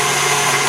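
Electric mixer whipping heavy cream for homemade cream horns, a steady close motor whir with an even buzzing hum that holds without a break.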